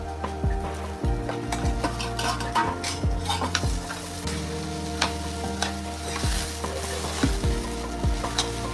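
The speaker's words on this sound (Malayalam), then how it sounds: "തേങ്ങ ബ്രൗൺ നിറമാവുന്നത് വരെ ഇളക്കി കൊടുക്കുക." Grated coconut and chopped yam fried in a pan for a South Indian masala curry, stirred with a utensil: steady sizzling with repeated scraping clinks against the pan, close and alone.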